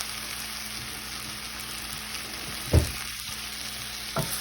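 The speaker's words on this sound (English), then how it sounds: "we're going to add our garlic, and then we're going to add just a tad bit of garlic butter" Garlic and a little garlic butter sizzle steadily in a hot pan while making a chicken pot pie filling, a close, even frying hiss broken by two brief utensil clacks near the end.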